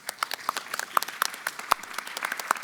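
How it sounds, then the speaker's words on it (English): Applause at a smart cities summit panel, with a scattered patter of individual hand claps from a modest audience, fairly clear and close. "let's give him a round of applause for all he does"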